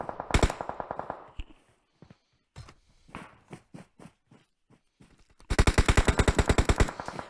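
Gunfire from the battle-royale game PUBG Mobile: a loud automatic burst opens, scattered single shots and short volleys follow, then a long rapid burst of fire closes the sequence.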